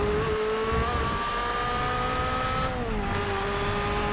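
Nissan R91CP race car in Forza Motorsport 6 at Silverstone, a steady high-revving engine whine held near and loud throughout, pitch sliding briefly down and back up as it shifts, with faint tyre noise beneath.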